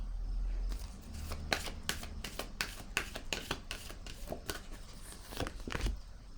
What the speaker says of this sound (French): Je peux peut-être piger une autre carte pour voir.